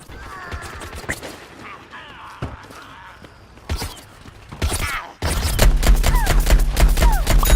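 Weapon fire in Plants vs Zombies Garden Warfare on Xbox One, from the Camo Ranger's primary weapon. Scattered sharp shots come first, then a dense stretch of rapid, loud gunfire fills the final seconds.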